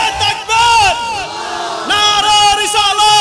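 A large crowd at a religious gathering loudly shouts the takbir in unison, giving two long, powerful waves of massed voices with a brief dip between them.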